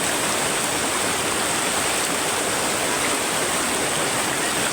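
A constant, loud rushing of a clean flowing stream on a farm in Salcedo, steady and unbroken like water tumbling over rocks close by.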